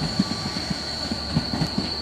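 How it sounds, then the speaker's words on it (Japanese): A 255 series limited express train rolls past slowly at night at a small rural station, wheels clacking over rail joints in a steady rhythm, with a faint high squeal lingering above. "しばらくすると特急しおさい号がやってきました。"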